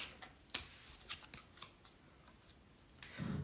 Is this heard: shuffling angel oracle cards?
yes